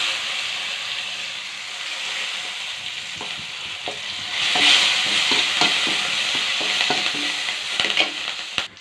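Curry leaves dropped into hot oil for a masala omelette burst into a loud, hissing sizzle that swells midway, with spatters and stirring clicks popping throughout.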